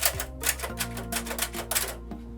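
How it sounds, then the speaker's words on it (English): Old typewriter brought out of its carrying case, giving a run of crisp, irregular key strikes and clacks close by, with a low steady hum under them and no talking. "That's a typewriter, if you didn't know what that was."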